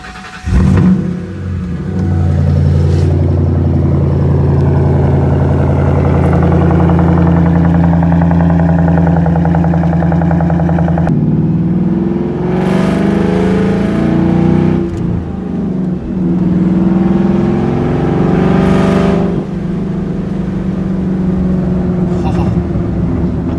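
A Ford Mustang engine runs close by, idling with a deep rumble and rising in a few revs over about twenty seconds, with light voices in the background.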